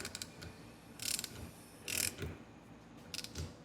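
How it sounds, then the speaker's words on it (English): Gear puller cranked with a socket wrench while pulling a part from a Toro 4500D mower gearbox, giving a few close, loud bursts of ratcheting clicks separated by quieter gaps. "So I'm going to crank that, and hopefully that will not break this puller, and we'll pull it up."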